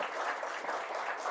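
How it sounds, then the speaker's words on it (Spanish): Audience applause at an academic talk on pluralist democracy, a short, even burst of many hands clapping, moderately distant and fairly quiet. "otro aplauso, por favor, para Jorge Velarde Rosso"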